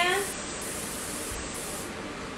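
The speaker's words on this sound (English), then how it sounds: "You wanna make sure that you spray your pan." Cooking spray hissing from an aerosol can onto a small meatloaf pan, a steady close spray lasting a couple of seconds with a brief voice at the start.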